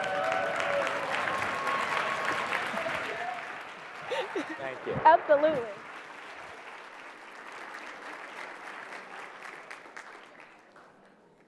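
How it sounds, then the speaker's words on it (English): Applause from an audience at a talk, fairly loud at first as a speaker comes out, then fading to a softer patter, with a few spoken words over it. "Let's give him a big round of applause as he comes out."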